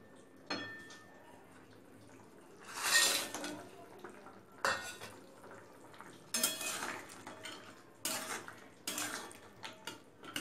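Bengali bari (lentil dumplings) go into a pot of softened potatoes for poppy-seed bari posto, heard as scattered clinks and scrapes of a metal spoon and pot, with quiet gaps between the bursts.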